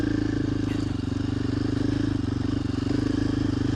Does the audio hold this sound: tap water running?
no